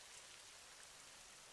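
Light rain falls steadily outdoors with a faint, even patter that holds throughout, and a sharp sound cuts in at the very end.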